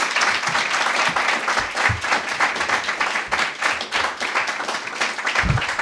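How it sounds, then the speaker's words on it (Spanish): A live audience breaks into steady, dense applause to welcome Alex Lachhein to a talk on animal welfare law, the clapping loud and sustained throughout with a few louder hand claps standing out near the end. "yo quiero que antes de empezar pues le demos un aplauso"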